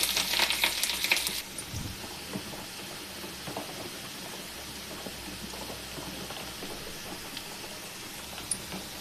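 Onion, green chili and curry leaves fry in hot oil with a soft, steady sizzle, after a brief louder burst of crackling and stirring at the start.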